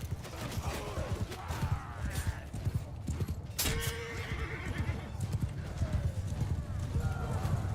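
Rapid galloping horse hooves clip-clop steadily through a medieval battle in the video game Bannerlord, with a horse whinnying partway through and someone talking over the action.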